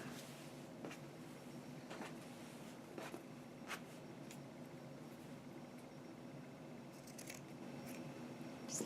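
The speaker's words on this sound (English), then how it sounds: "we're going to cut the sleeves off" Scissors cut the sleeves off a t-shirt in a handful of faint, scattered snips against a quiet room hiss; no one talks.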